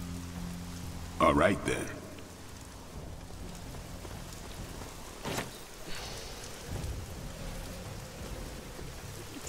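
Steady rain with distant rolling thunder in the video game Midnight Suns, a broad wash of noise throughout with a louder rumble early and a fainter one midway, while someone speaks briefly.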